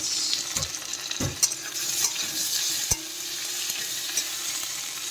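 Prawns and green chillies frying in hot oil with a dry red chilli tempering, a continuous crackling sizzle broken by several sharp stirring scrapes and clinks.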